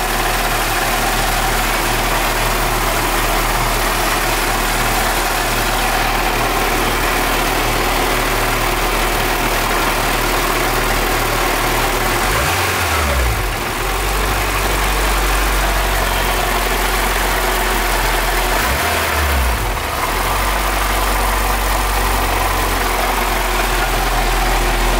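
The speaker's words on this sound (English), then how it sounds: "there's some slight rattling coming from the transmission" A Honda Integra engine idles with a slight rattle from the transmission, a constant loud low drone with two brief dips in the rumble partway through and no one speaking.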